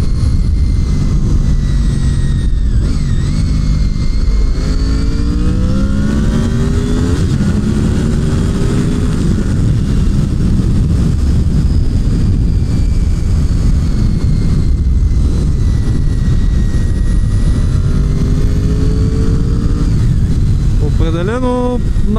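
A motorcycle fitted with a sport exhaust revs loudly and close up, the engine note rising and falling through repeated throttle blips and sustained roars over a constant rumbling idle.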